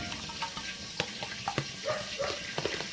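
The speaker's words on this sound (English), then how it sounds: "Basically, you just cook the pineapple in this for a little while." Pineapple simmering in an island-style ginger BBQ sauce gives a soft, steady sizzle and bubbling, with light stirring clicks and scrapes scattered over about three seconds.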